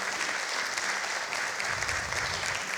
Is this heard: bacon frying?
no